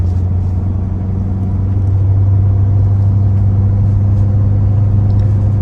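A 2018 Ford F-350 pickup engine with compound turbos drones steadily with a deep, constant rumble and faint whine, heard from close by without any talking.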